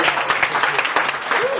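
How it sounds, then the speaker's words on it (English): Audience applause at an improv comedy show, a burst of quick clapping from a small crowd with individual claps audible, fairly close and lively, with a voice briefly heard over it. "A round of applause for our rappers."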